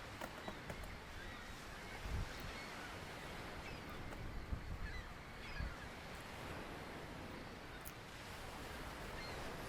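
Steady broadband wind roaring off the sea on an exposed coast, a continuous rushing blast with occasional gusts and buffets close to the microphone, no voices.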